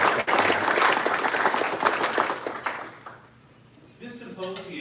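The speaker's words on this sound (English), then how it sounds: "So a big round of applause" Audience applause at an ethics symposium honoring a foundation, a dense burst of clapping that fills most of the moment before thinning out, with a voice starting to speak near the end.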